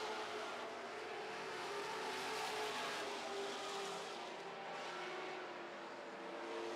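Super stock race cars sliding around a dirt oval track, a steady far-off roar of multiple engines blending into a continuous drone, fairly faint throughout.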